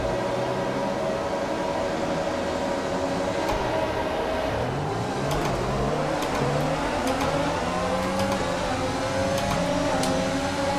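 F1 race cars launching off the grid at a race start in France in the F1 2020 video game, a dense wall of engine roar with several rising tones as the field accelerates together, with no talking.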